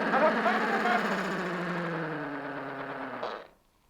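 An old pull-string talking doll speaks in a warbly, distorted mechanical voice for about three and a half seconds, fairly loud and close, then cuts off into silence.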